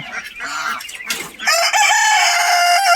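A rooster crows loudly and close by, a long drawn-out call that follows some brief clucking and scuffling.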